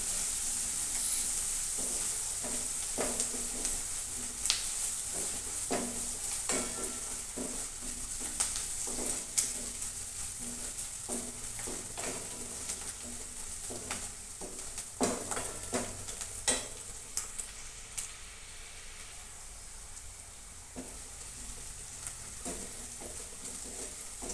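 Sliced onions with salt are sautéed and stirred in a pan. A soft sizzle runs underneath repeated close scraping and clinking strokes of the spoon, with no speech.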